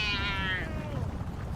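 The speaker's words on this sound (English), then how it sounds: "Why, I've never met a talking cat as rude as this." A talking cat in the Call of Duty Black Ops 7 Zombies game lets out a single loud, drawn-out meow that falls in pitch over under a second, then fades into game background noise.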